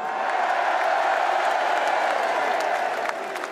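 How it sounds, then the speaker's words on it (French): Sustained applause from a large crowd at a French political rally at the Trocadéro, a dense, steady roar of many hands clapping throughout, with faint cheering mixed in. "Applaudissez-le."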